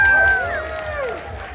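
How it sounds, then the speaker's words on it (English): A charity auction crowd cheers and whoops in a burst of applause for vendors and artists, with voices shouting over the clapping and the noise gradually easing off. "how about a huge round of applause for all of our wonderful vendors and artists"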